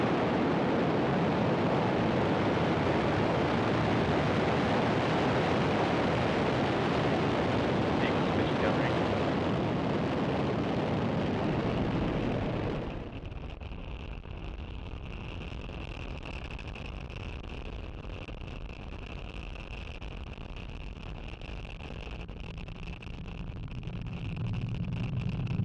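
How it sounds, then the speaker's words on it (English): Falcon rocket lifting off at engine full power, a loud sustained broadband roar that drops sharply in level midway and continues as a distant rumble with a faint tonal whine. "Engine full power and lift off."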